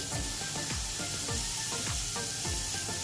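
Onions and tomatoes sizzle loudly in a hot kadai, a dense continuous frying hiss with repeated stirring scrapes every half second or so.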